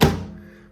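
A microwave door shuts with oats inside, one solid close thunk that fades quickly, followed by a faint second knock at the end.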